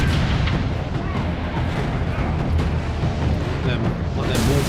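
Mortar and gunfire in the video game Warhammer 40,000: Space Marine 2, a dense, continuous rumble of booming blasts and battle noise filling the whole stretch, loud and steady, with a voice talking over it.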